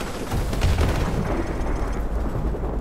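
Dense, continuous battle gunfire aimed at a balcony in Call of Duty: Modern Warfare Remastered, a loud, steady rumble of shots and blasts with no clear gaps and no talk.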